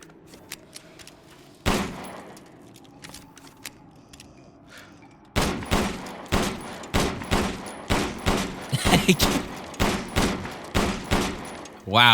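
Upgraded machine pistol firing in Resident Evil Village: after a single opening shot and a lull, a loud, rapid string of sharp gunshots follows in a steady rhythm to the end.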